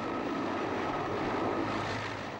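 A water-bombing helicopter flies over a wildfire in the Peloponnese, Greece, its engine and rotor drone carrying as a steady, moderately distant roar with no voices.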